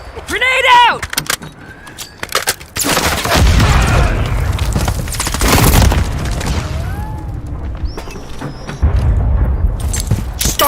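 Grenade explosions and gunfire in the video game Call of Duty MW III: loud booming blasts and rapid bursts of shots, close and harsh, mixed with shouted voices and game effects.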